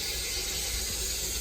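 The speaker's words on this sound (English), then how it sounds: "Open up the hot water faucet right next to us." A hot water faucet beside a boiler and thermostatic mixing valve is opened, letting out a steady, close rush of running water that holds even and unbroken throughout, with no talking.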